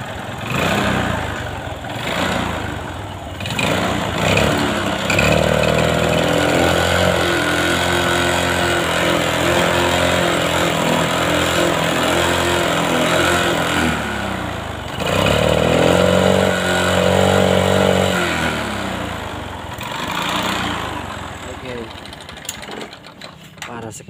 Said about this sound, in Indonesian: Coba kita hidupin ya, untuk motornya bisa atau enggak.